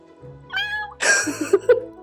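A cat lets out a couple of close, loud meows in quick succession, the second longer and more strained, with faint background sound underneath.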